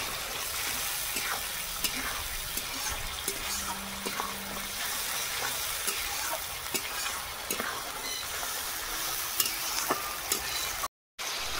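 Chopped tomato and slit green chillies sizzle in a hot pan for a fish curry, a steady, moderate frying hiss with occasional stirring clinks and scrapes, no voices.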